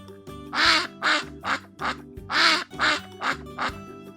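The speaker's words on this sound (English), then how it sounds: "Do you know the sound a duck makes?" A cartoonish duck quacks eight times in a steady, bouncy rhythm, each call loud and close, in a lively toy-play setting with no talking over it.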